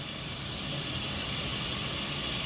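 Chopped large onions sizzling in hot ghee in a pan for white chicken pulao, a steady, close, soft hiss with no talk.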